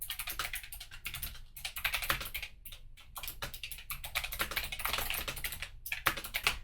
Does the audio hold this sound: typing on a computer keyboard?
yes